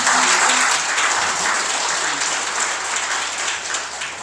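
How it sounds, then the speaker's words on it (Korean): An audience at a mayoral candidates' forum in Asan applauds the candidates, with full, continuous clapping already under way and easing slightly toward the end. "박수로 한번 격려해 주십시오."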